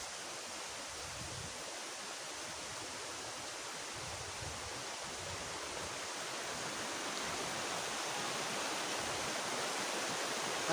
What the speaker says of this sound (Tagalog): malakas yung agos sa tubig ng ilog dito